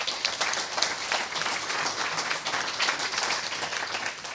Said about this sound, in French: Je vous demande de les applaudir aussi